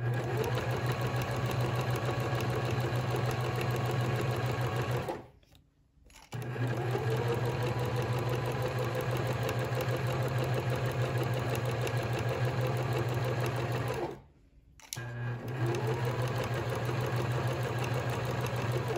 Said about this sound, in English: I didn't quite get close enough, so I'm gonna go about 2 more stitches.